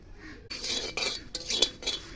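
Spices being stirred in a hot pan: cumin, cardamom and a piece of cinnamon bark scraped around with a utensil, producing a near, busy run of scraping and light clinking strokes after a brief quiet start.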